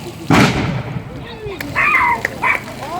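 One loud, sharp ceremonial gun salute volley cracks out, followed by a dog barking a few times nearby.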